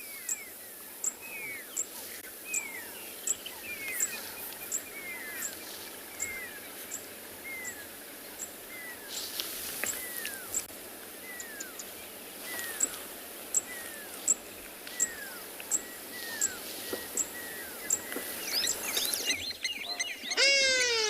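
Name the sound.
zitting cisticola bird calling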